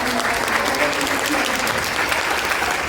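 Audience at a panel discussion applauding, a steady dense wash of clapping that holds at full strength from start to finish with no voices breaking through.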